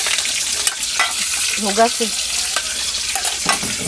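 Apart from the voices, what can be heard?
fish frying in hot oil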